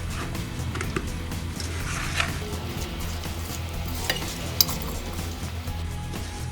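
Fish curry ingredients with ginger garlic paste are stirred in a pan, close scraping and gentle sizzling with a few light clinks of the utensil against the pot.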